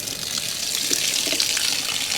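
Water rushes steadily from an RV's plumbing through an open valve while the trailer is drained for winter, a continuous hiss and gush close by with no talking.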